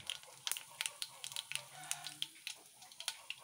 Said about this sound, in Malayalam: വഴറ്റാനായി വെളിച്ചെണ്ണ ചൂടായി, നമുക്കതിലേക്ക് കടുകിട്ട് കൊടുക്കാം.